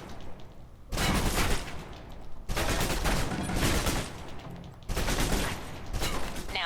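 In Alpha Protocol, a gun empties its clip in three sustained bursts of rapid gunfire, each a few seconds long and separated by short pauses, loud and close with no talking.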